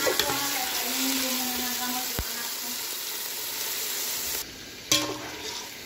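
Chicken sinigang with vegetables simmers and sizzles in a pot, a steady broadband frying hiss running throughout, with a sharp clank near the middle and another utensil knock toward the end.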